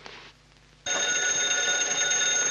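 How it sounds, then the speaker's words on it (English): An old-fashioned telephone bell in a 1930s office rings loud and continuous, a steady metallic trill starting abruptly after a quiet moment and holding to the end. "Get him on the phone."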